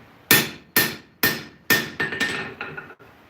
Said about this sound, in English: And yes, I am hammering on a hardened blade.